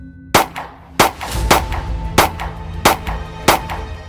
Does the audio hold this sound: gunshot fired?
yes